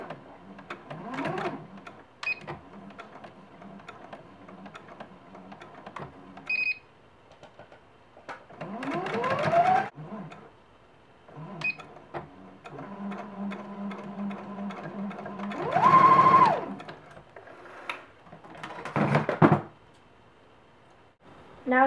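A home sewing machine runs a straight stitch along the length of a T-shirt seam, with whirring bursts starting and stopping between pauses and quiet stretches at moderate loudness.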